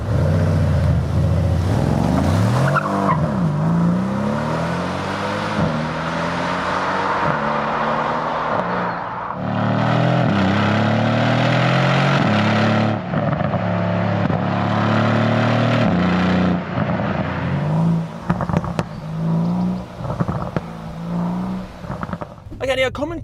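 A Mercedes-AMG C63 S engine revs loudly and continuously, with repeated rising pitch sweeps as it accelerates through the gears and brief lifts between pulls, ending in crackling throttle blips.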